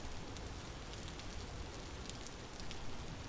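Steady rain downpour in the video game Vintage Story, a dense continuous hiss of falling water with scattered droplet ticks, even and loud throughout with no other sounds on top.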